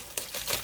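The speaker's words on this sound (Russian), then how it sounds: "Теперь вытаскиваем нашу клавиатуру." A Redragon K580 keyboard slides out of its plastic packaging, giving a couple of short, soft crinkling rustles close by with no talk.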